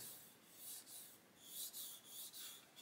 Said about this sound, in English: When I rub this one, you can hear that that one is rougher.